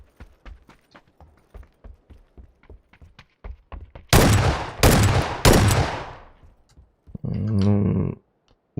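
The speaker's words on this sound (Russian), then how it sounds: "Ну, выстрел такой." Rhythmic hoofbeats lead into three loud, booming gunshots with ringing decay in the video game PUBG, followed by a mechanical reload-like clatter.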